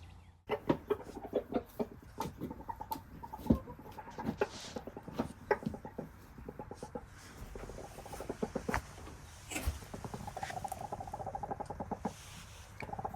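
A rooster named Moustache clucks from a nest he has chosen, calling his hens to him; repeated short clucks and low calls sound close and loud, with scratching and rustling in between, and no one speaks.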